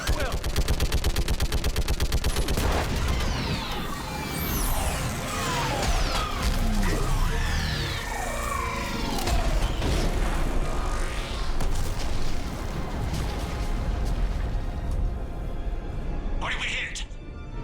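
An orbital strike in the Mass Effect 3 video game brings loud, sustained rapid gunfire and heavy booming explosions, with voices talking over the battle.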